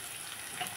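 Curry leaves sizzling in hot oil while upma is cooked, a brief, steady, close hiss and crackle of frying without speech.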